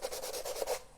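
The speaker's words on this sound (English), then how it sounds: "100 grit piece of sanding paper, more than sufficient." A sheet of 100 grit sandpaper scrubs a metal surface to remove glue, making a close, rhythmic rasping in quick back-and-forth strokes about a second long, with no talking.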